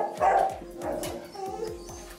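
Several dogs bark repeatedly at a dog hotel kept in poor conditions, a steady run of close, loud barks and yips with a few whimpers between them, and no talking.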